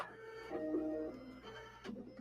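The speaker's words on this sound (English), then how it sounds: "It threaded the needle." A sewing machine automatically threading its needle whirs and hums with a mechanical tone for about two seconds, ending in a soft click and clatter, close and quiet with no talking.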